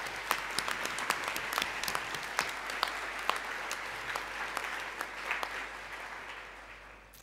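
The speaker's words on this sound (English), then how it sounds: "Can we give the boys another round of applause?" School assembly audience at an awards ceremony applauding, a dense, steady wave of clapping from a large crowd that slowly fades toward the end.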